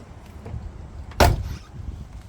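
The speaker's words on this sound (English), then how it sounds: "Nice closing doors." A single solid thump of a 1966 Ford Mustang GT's door shutting close by, standing out against a quiet, low background rumble.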